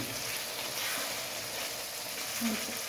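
Meat going into fried spice masala with oil floating on top, a dense continuous sizzle in oil, close and steady with slight swells.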